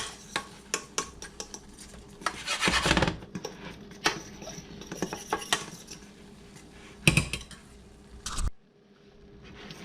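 A utensil scrapes and clinks against a pot while a roux for razor clam chowder is stirred, giving irregular close knocks and rubbing strokes with a faint sizzle underneath.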